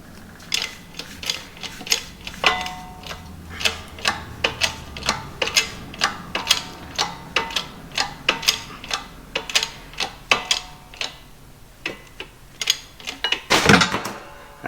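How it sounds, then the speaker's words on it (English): A press tool forces the worn upper ball joint out of a Scout's steering knuckle, giving off a long, steady series of sharp metallic ratcheting clicks, close and fairly loud, ending in a brief louder burst. "So we're popping out the upper ball joint"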